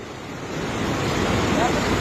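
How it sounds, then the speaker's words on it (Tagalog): Ocean waves wash onto a beach shore in a continuous, loud roar of surf that builds slightly over the span, with a little wind on the microphone. "Yung alon."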